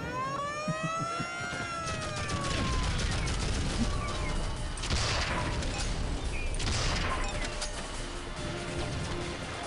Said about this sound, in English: those fireworks really looks like soda bottles